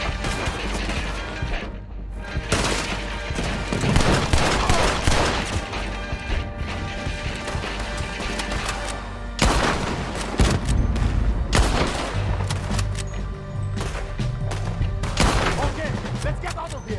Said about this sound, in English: He's shooting! We have to take him down!